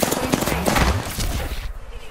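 Gunfire in the video game Apex Legends comes in rapid, dense bursts of close automatic shots for about two seconds, with game voice callouts mixed in before it fades.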